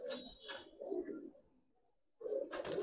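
Costly pigeons kept for sale coo in short bursts close to the listener. The calls break off into a brief quiet spell, then return loudly.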